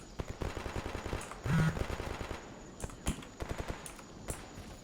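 Rapid gunfire from the video game Escape From Pripyat, with bursts of automatic shots and scattered single cracks spread through the clip at moderate loudness, some footsteps faintly underneath.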